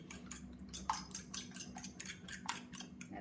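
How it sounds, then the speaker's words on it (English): Four eggs being beaten in a bowl for Greek spanakopita, a quick run of rhythmic whisking or fork strokes with repeated clinks against the bowl, close and steady with no talk. "So give the eggs a bit of a beat."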